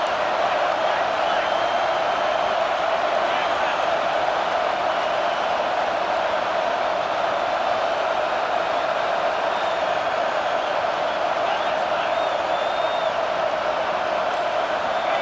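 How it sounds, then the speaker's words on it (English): Dense, constant roar of a large stadium crowd in the video game EA Sports College Football 26, loud and unbroken throughout. "This crowd bringing the energy and noise early."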